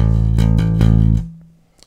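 A bass guitar plays a short picked line: three or four clear, loud notes in quick succession, close and alone, ending in a ringing note that fades out.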